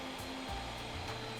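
An electric mixer kneads chicken burger dough with spices and salt, a steady motor drone that shifts lower in pitch partway through, loud and continuous with no talking.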